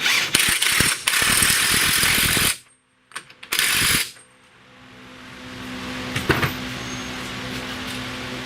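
Rapid ratchet clicking runs in close, loud bursts as the ball joint nut goes back onto a Chrysler Sebring's lower suspension, pausing briefly, resuming, then giving way to a quiet workshop hum.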